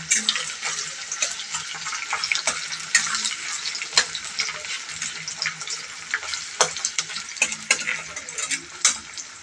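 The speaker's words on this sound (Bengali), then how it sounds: "তেলটা আমার গরম হয়ে গেছে, সর্ষের তেল। এই যে আমি এর মধ্যে পেঁয়াজটা ছেড়ে দিচ্ছি।" Onion hits hot mustard oil in a pan and fries loudly and close up, a dense continuous crackle broken by sharp pops and occasional stirring knocks.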